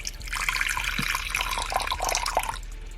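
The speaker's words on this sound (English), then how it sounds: "now we're gonna fill up its huge water bowl." Water pours steadily into a tarantula's large water bowl, a close, splashing trickle that runs for a couple of seconds and then eases off, with no voices.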